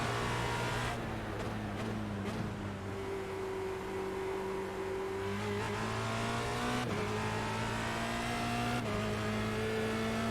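A Formula Renault 2.0 race car laps Oulton Park, its engine a sustained tonal drone heard from onboard, rising in pitch through the gears with several sharp shifts and brief lifts, no voices over it.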